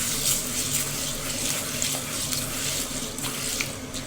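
Moong dal being rinsed with water in a large bowl in a home kitchen, a steady close splashing and trickling wash of water that runs continuously without pause, with no talk over it.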